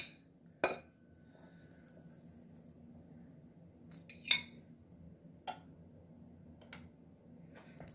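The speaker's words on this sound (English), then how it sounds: "I am going to plate this up." Plating a freshly made carnivore chaffle onto a dish: a few sharp clinks of cutlery and crockery, spaced apart and fairly close, over a quiet low hum with no talk.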